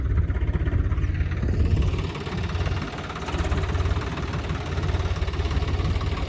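A tractor engine idles steadily in the rain with a rough, knocking chug, its low drone continuous beneath a hissing wash of background noise.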